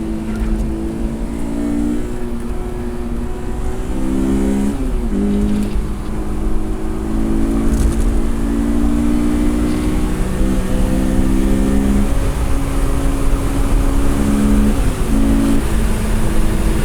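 A track-modified 2000s Honda S2000 AP1 engine revs hard and steadily under load, its harmonic pitch climbing and dipping with gear changes, loud and continuous throughout.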